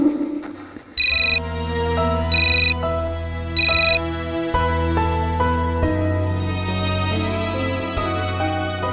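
A phone ringtone plays a melodic electronic tune of sustained tones, with three bright, sharp beeping bursts near the start, loud and close throughout.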